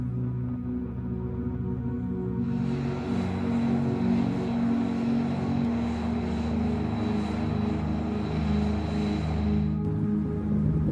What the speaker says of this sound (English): the F-22 Raptor.